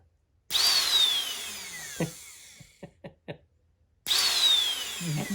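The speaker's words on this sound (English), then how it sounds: "I guess I see why that's a chainsaw motor." A small Ryobi chainsaw motor, repurposed as a replacement motor, whines up to speed with a rising-then-falling pitch for a few seconds, cuts out, a few sharp knocks follow, then it spins up again.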